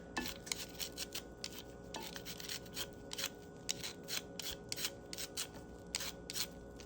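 Corn cobs are scraped with a knife in quick, rhythmic rasping strokes, faint and close, with a few soft clicks between passes.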